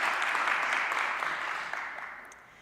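A congregation applauds the church band at a Sunday service, dense, even clapping from many hands that holds steady, then slowly tapers off.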